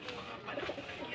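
Soft coos of racing pigeons murmur close by, low and throaty, over a steady background hum.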